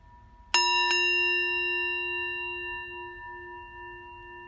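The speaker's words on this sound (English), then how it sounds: "This is my singing bowl." Two quick strikes on a singing bowl, then a bright ringing tone with shimmering overtones that hangs on and fades slowly in a quiet room.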